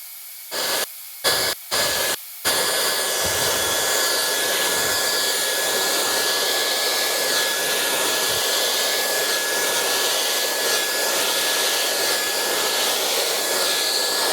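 A hair dryer blows steadily while a sweeping fringe is styled, starting with a few short on-off bursts before settling into a loud continuous whoosh with a high whine running throughout.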